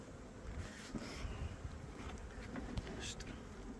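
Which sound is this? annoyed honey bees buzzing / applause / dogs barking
annoyed honey bees buzzing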